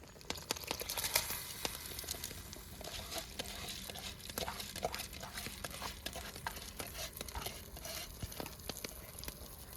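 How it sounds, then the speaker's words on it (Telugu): Soaked rice tipped into a pot for vegetable pulao, faint scraping, pattering and stirring rustles in a soft, uneven stream. "నానబెట్టుకున్న బియ్యం దీంట్లో అయితే వేసుకుందాం"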